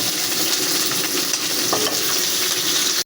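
Aromatics frying in hot oil for Ilocano igado, a loud, dense and continuous sizzle with faint stirring clinks, heard close up with no voices until a sudden cut at the end.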